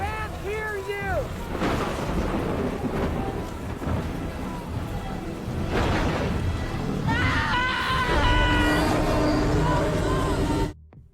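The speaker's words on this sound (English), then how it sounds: "The rain, the thunder" A scene from a Jurassic Park film: heavy rain hisses steadily while deep thunder rolls and rumbles, with drawn-out tonal cries rising over the storm.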